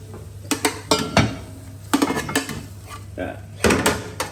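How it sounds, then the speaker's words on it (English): Roasted carrots and other vegetables spooned from a pan into a soup pot, with a series of close metal spoon clanks and scrapes against cookware at irregular intervals over a low background hum. "So I'm just going to spoon those all in."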